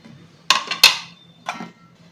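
Metal clinks against a kadai as spices are mixed into chicken for butter chicken. There are three sharp, close taps spaced across two seconds, with quiet room noise between them.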